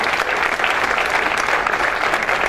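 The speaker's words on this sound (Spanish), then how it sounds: "Un fuerte aplauso a Ternium" Strong, steady applause from a crowd at an environmental cooperation awards ceremony, loud even clapping for Ternium's third-place prize filling the whole moment.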